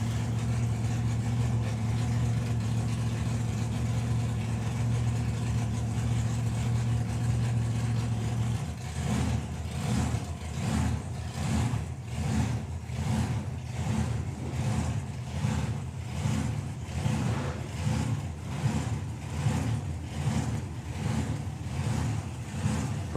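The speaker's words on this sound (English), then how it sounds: "So the Thunder God Ford Model T, Duncan Beard, his first run of the weekend" A Ford Model T drag racing car named Thunder God idles at a drag strip, then revs in a rapid run of rhythmic throttle blips. The engine is loud and close, with no talk over it.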